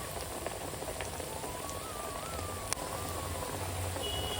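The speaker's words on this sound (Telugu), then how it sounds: "లేయర్ ఫామ్ అయిన తర్వాత సిమ్లో పెట్టుకుని వేయించుకోవాలి అప్పుడు మనకి లోపల నుంచి కూడా చక్కగా గోల్డ్ కలర్లో ఫ్రై అవుతాయి" Snacks deep-frying in hot oil on a low flame, giving a steady, continuous bubbling sizzle with fine crackles throughout, close and moderately loud with no talking.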